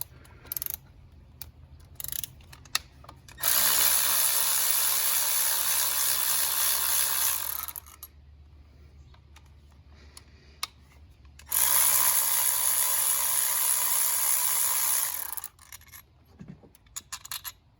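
A ratchet fitted with a T30 bit loosens the coil rail bolts on a Chevy Cruze during a valve cover gasket job, heard as two long, loud bursts of rapid clicking close by, separated by quiet handling noises.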